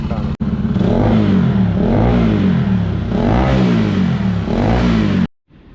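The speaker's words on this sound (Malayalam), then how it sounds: "ഇങ്ങനത്തെ ഒരു എക്സോസിൻ്റെ ഈ ഒരു സൗണ്ടാണ്" Bajaj Pulsar NS 200 motorcycle with a custom underground bend-pipe exhaust revving loud and close, the engine note rising and falling in about three swells before cutting off abruptly near the end.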